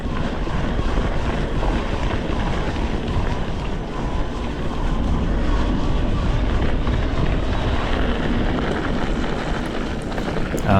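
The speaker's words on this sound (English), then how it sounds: "Right here you get to hear the noise of the bike and the motor." A DJI Amflow PL Carbon electric mountain bike climbing a dry trail under pedal and motor power, a loud steady rumble of tires, rattle and wind with the motor faint beneath.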